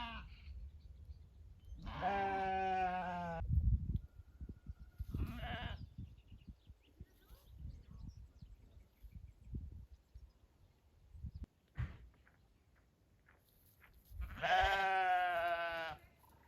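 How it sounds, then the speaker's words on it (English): Sheep bleating on a farm in Burgundy, France: two loud, drawn-out bleats, one early and one near the end, with quieter rustling and scattered soft sounds between them. "the farmer came and helped the sheep get back into its own field"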